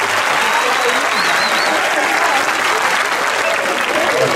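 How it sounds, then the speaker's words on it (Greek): Loud, dense, sustained crowd applause at a martial arts demonstration in Alexandria, Greece, an unbroken wash of clapping with voices mixed underneath throughout. "Ένα δυνατό χειροκρότημα να μην το κάτσει"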